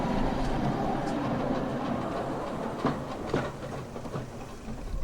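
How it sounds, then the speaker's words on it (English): Newcastle Tram 114 rolls past on rails at a steam gala, a steady low rumble with occasional clacks and squeals from the wheels, fairly close and continuous. "we have to wait for Newcastle Tram 114 to get out of the way first"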